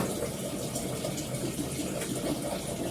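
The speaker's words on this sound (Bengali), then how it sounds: "চালটা ভালো করে ধুয়ে নিয়ে একটা জল দিয়ে করে রাখছি" Tap water running steadily over rice being washed in a home kitchen, a continuous close gushing splash with no pauses.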